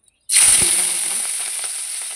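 River snails (googli) dropped into hot oil in a pan, bursting into a sudden loud hiss that settles into a steady sizzle with faint stirring clicks.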